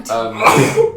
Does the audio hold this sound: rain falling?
no